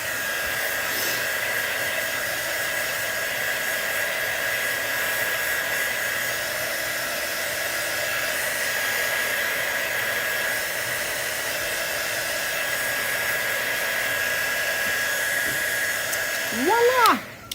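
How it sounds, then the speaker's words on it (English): Blow dryer blasting air over a handmade birdcage craft, a loud, steady whooshing roar held for a long stretch before it cuts off abruptly at the end. "I'm gonna hit this with some air and make sure it's completely"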